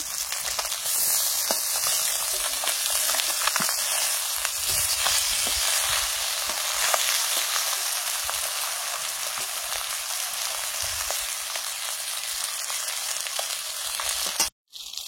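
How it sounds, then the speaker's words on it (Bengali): Steady, loud sizzling of fish frying in hot oil, a continuous crackling hiss that cuts off abruptly near the end. "এদিকে মাছ ভাজা চলছে।"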